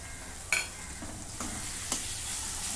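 Tomato with coriander powder, garam masala, red chili powder, turmeric and onion-garlic masala is stirred in a frying pan, a steady sizzle under a few soft scraping strokes, with no talking.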